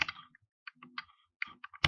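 Short bursts of computer keyboard typing as a Linux command is entered at a terminal, several quick clustered key clicks separated by brief pauses, close and clear with no talk.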